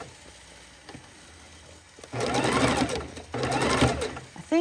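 Domestic sewing machine running in two bursts of steady, fast stitching while sewing a raw edge appliqué, loud and close, with a quieter pause between runs.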